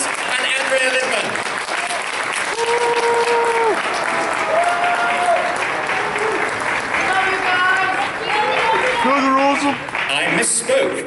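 A convention crowd at a charity auction claps steadily in a large hall to send off departing guests, with an announcer speaking over the continuous applause throughout.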